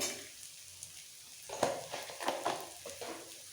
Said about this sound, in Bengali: ভাজতে ভাজতে দিয়ে দেবো পেঁয়াজ কুচি